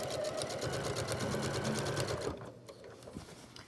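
A sewing machine stitches a three-layer fabric face mask, running in a fast, steady close-up whir for about two seconds before stopping, followed by faint handling sounds.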